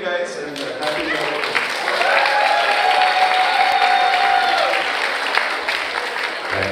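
An audience at a birthday reception bursts into applause, clapping swelling to a full steady round with some cheering, while a thin whistle-like tone and scattered voices sit under it.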